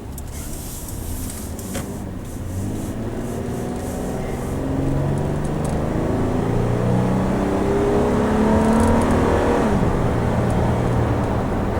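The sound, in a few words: 2015 Toyota 4Runner Limited accelerating from 10 to 60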